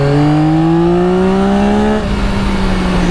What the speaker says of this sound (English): let's just punch it out of a corner